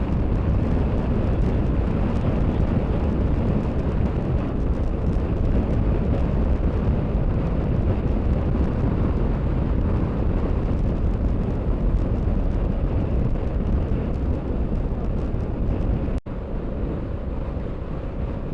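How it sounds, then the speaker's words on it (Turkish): Steady, heavy wind roar buffets the microphone without letup in the Altai mountains of Mongolia, a dense low rumble filling the whole stretch. "Baba bak rüzgara bak."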